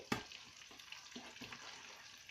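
Tilapia frying in a pan gives a steady, close-up sizzle, broken by a few soft knocks and scrapes of a spoon against the pan.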